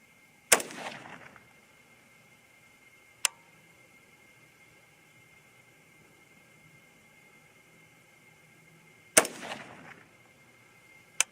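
Two sharp, loud rifle shots from an AR-15 chambered in 300 HAM'R, spaced several seconds apart with short ringing decay, separated by a faint click at an outdoor range.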